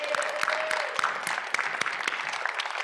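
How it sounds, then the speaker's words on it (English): An audience at a secular summit awards segment gives a round of applause, a moderate steady patter of many hands clapping at a medium distance for a few seconds. "let's give her a round of applause"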